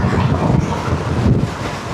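Steady wind buffets the microphone with a constant low roar and rumble while riding a Dualtron Popular electric scooter, no voices.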